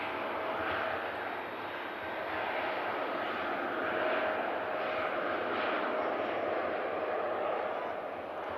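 Engines of a TUI Boeing Dreamliner spool up at Manchester Airport in thick fog, a broad rising roar with a thin whine that swells and holds, moderately distant and alone.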